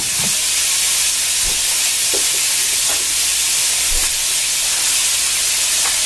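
Minced garlic frying in a hot pan in a home kitchen, a steady loud sizzle and hiss throughout, with occasional soft clinks and stirring bumps.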